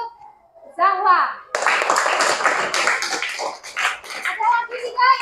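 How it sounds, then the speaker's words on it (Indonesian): Children in a classroom clap together for a classmate during a maths lesson, a dense burst of applause lasting a few seconds between stretches of young voices talking. "beri tepuk tangan untuk Zahwa."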